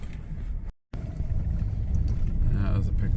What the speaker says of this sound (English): Wow, there's a car coming.